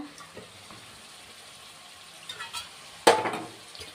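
Ground coriander and cumin sautéing in a pan for a vegetarian potato, pointed gourd and paneer curry, a faint low sizzle followed by a sudden loud burst of spattering near the end.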